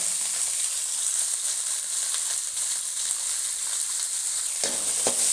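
Small shallots sauté in oil in a pan for mutton curry, a continuous hissing sizzle heard close, with a brief stir or clatter near the end and no voices.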